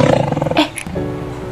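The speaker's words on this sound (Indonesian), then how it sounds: "Oh, itu ada suara harimau." A tiger roars, a loud, rumbling growl lasting over a second and rising to a harsh burst near the middle, close and alone with no talk.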